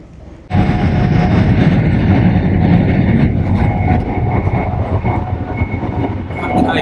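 Inside an LNER Azuma train heading toward London King's Cross, a loud, steady rumbling roar with faint rhythmic clatter starts abruptly and fills the carriage for several seconds.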